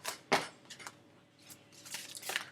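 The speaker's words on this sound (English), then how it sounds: "Keep shuffling these freaking cards" A deck of tarot cards being shuffled, brisk papery riffles and swishes in a few uneven bursts, fairly close and moderate in level, with no voices.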